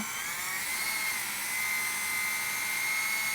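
A small drill runs continuously on a Mini4WD rear stay, giving a steady, close, high-pitched whine with a faint rising tone throughout, with no other sounds.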